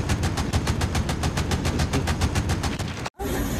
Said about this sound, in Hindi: गोलियां खत्म ही नहीं हो रही है इसकी। लगातार फायर कर रहा बिना रुके।